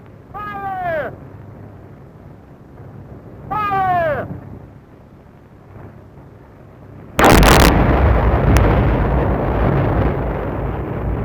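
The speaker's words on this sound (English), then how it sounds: "The ore, which lies close to the surface of the ground, is loosened by blasting." A loud, sudden broadband dynamite blast loosening near-surface iron ore in a mine, booming once and then rumbling on with sustained roar; earlier, two brief whistling tonal sweeps sound over a low background.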